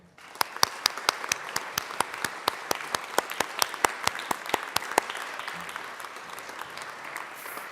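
In the Colorado Senate chamber, senators applaud an honored guest with a steady run of crisp, evenly spaced handclaps from a small group, fairly close, thinning out and fading after about five seconds.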